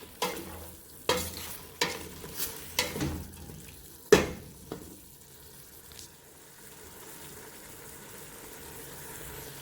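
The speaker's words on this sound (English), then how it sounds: "Just gonna stir that around." A spoon stirs beef seasoning into a pot of vegetable and meatball soup, giving several sharp scraping knocks against the pot over a low simmering background, one clank louder than the rest, and then softer bubbling.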